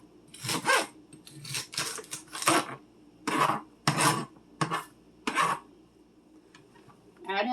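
Fresh celery for a crockpot meatloaf is handled and rubbed close by, producing a series of crisp, rasping crunches in irregular bursts separated by short quiet gaps.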